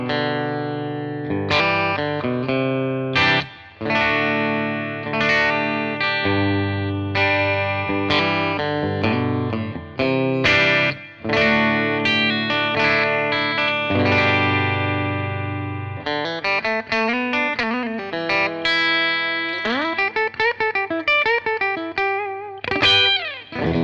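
A Stanford Crossroad Thinline semi-hollow electric guitar played through its P90 bridge pickup on a clean tone, with a continuous run of picked notes and chords, ringing and up close, with no talking.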